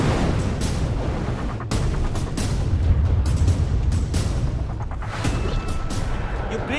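Explosions and artillery fire rumble through a war zone in Chernihiv, Ukraine, a continuous heavy, low booming din with repeated blasts, loud and unbroken throughout.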